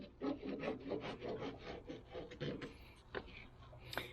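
A knife cuts across a big chunk of beef for jerky, producing a quiet, close rasping and sawing sound in repeated strokes, with faint taps near the end.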